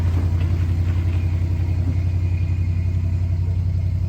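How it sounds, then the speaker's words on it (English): An old Ford half-ton pickup with a 360 V8 runs steadily, its deep, loud engine rumble and low chugging drone constant and close throughout, with no voices. "You can hear that old truck grunting like a pig"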